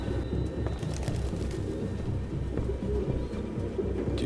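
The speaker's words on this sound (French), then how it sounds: "Aucun humain ne pourrait vivre avec autant de pigeons." Pigeons cooing in the video game Detroit: Become Human, a dense, steady murmur of many birds close by, with no speech.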